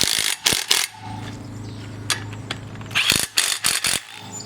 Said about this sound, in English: And then you take your impact wrench.